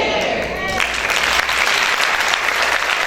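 A church congregation breaks into loud, dense applause that swells after a brief spoken phrase and then keeps going as sustained clapping from many hands.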